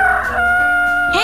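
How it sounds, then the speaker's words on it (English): A rooster crows loudly and close, a sustained, strained tonal call that ends with a rising note. "Rooster."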